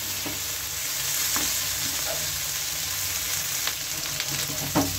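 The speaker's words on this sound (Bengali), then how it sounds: "এখন এটা তেলে একটু ভেজে নেব" Dried loitta fish frying in hot oil in a pan, a continuous sizzle with a few stirring clinks and scrapes close by.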